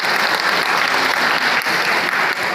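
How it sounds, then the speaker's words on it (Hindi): An audience at a political gathering in Mustafabad welcomes a speaker with loud, dense applause that stays steady for a couple of seconds. "आज ही खुशनूर साहब से जोरदार तालियों के साथ स्वागत है"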